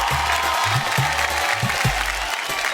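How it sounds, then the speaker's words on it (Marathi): Audience applause on a Marathi TV game show, a sustained burst of clapping from the studio crowd that carries on under a host's speech. "जोरदार टाळ्या होऊन जाऊ दे."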